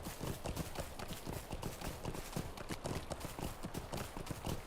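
Horse hooves clip-clopping steadily in a video game, a quick continuous rhythm of hoofbeats at close range with a faint voice now and then.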